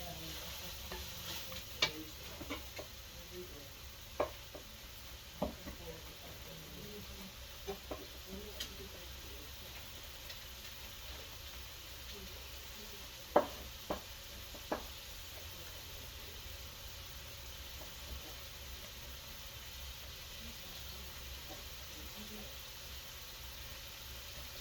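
Cabbage with bacon and sausage fries in a pan with a faint, steady sizzle, broken by occasional sharp clicks and scrapes of stirring, while people talk quietly nearby.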